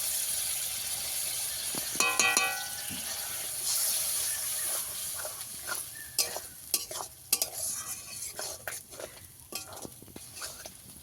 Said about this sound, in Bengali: এবারে সব সম্পূর্ণ মশলাটা ভালো করে কষিয়ে নেব